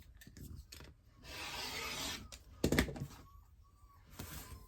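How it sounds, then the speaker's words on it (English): Fabric for a quilted table runner is cut, likely with a rotary cutter, giving a close rasping, rubbing stroke followed by a brief sharp knock and quieter handling sounds. "I'm just going to cut a 2-inch strip."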